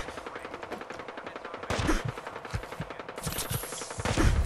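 Rapid automatic gunfire in Fallout 4, a steady stream of close shots that grows heavier and louder toward the end, with no talking.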